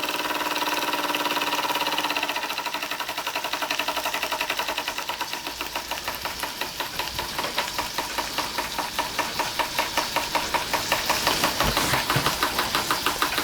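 A Microcosm M81 micro beam model steam engine runs on steam, its soft start giving way to a fast, even mechanical ticking and chuffing that holds a steady rhythm, close and clear with no talk.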